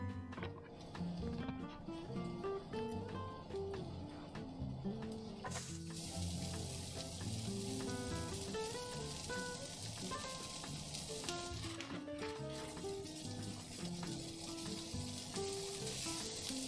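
Pork and onions sizzling in a pan for goulash, a steady, fairly faint frying hiss throughout with occasional stirring clatter, mixed with some background tones.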